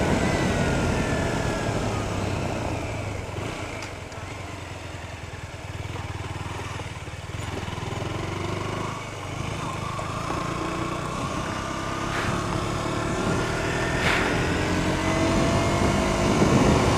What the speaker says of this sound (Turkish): Egzoz sesi gayet güzel,